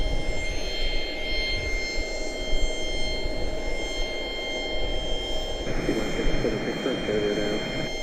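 An Embraer ERJ 145 regional jet takes off from Charlotte-Douglas International, its engine roar a steady distant rumble throughout while people talk over it.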